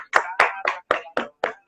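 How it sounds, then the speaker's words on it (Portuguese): A short burst of hand clapping at a Brazilian literature and Black identity event, six distinct, loud claps in an uneven rhythm, close by and alone, from a small gathering rather than a large crowd. "uma salva de palmas"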